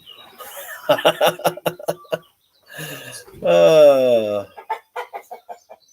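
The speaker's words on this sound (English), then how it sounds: "Our chickens are joining in." Farm chickens cluck in a barn during a live evening broadcast, giving a run of short rhythmic clucks, a pause, then a longer drawn-out squawk followed by more clucking, fairly close and loud.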